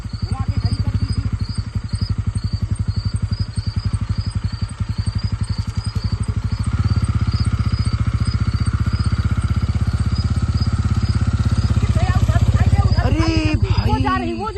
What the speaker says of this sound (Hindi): आप बाइक को घुमा के खड़ी कर दीजिए